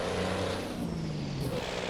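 A Freightliner FLB truck in American Truck Simulator works up through its gears, the engine droning with a rising then dipping pitch, steady and close throughout.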